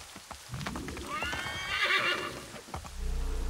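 A horse in the video game Assassin's Creed 3 gives a loud, close whinny over a steady run of clip-clopping hooves, alone with no talk, the hooves growing heavier toward the end.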